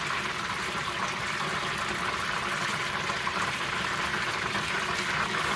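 Orange chicken sauce is stirred as it thickens in a pan, giving a steady bubbling, watery simmer with a faint scraping texture throughout.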